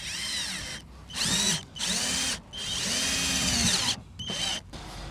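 A power drill drives a screw into the body of a 2004 Volkswagen Golf 4 1.9 TDI, whining up and down in several close, loud bursts separated by short pauses.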